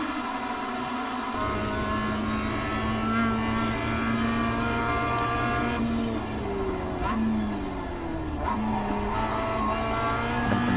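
Mazda race cars battling in the iRacing sim, engine tones droning steadily with pitch shifts as cars jostle and pass, a continuous close engine whine running throughout without speech.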